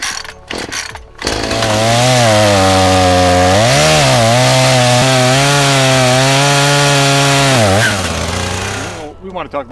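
A chainsaw roars loudly and steadily for several seconds, its pitch dipping and recovering as it bites into wood, with short pauses at start and end, out in remote wilderness.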